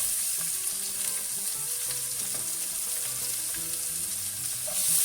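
Garlic and red onions sizzle in hot oil for Jamaican brown-stew fish, a dense, even hiss that stays loud and close throughout, with faint background tones under it.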